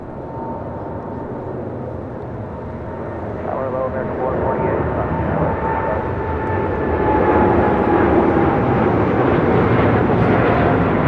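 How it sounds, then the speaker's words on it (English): Delta Airbus A350 taking off from runway 25 right at LAX, a steady broadband jet engine roar that swells louder toward the end as the aircraft accelerates. "The Delta A350 lined up, ready to go on 25 right."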